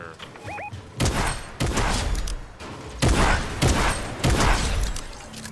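Fortnite gunfire in a video game: loud, close bursts of rapid automatic shots arriving in several rolling volleys, each a few tenths of a second long, with short gaps between bursts.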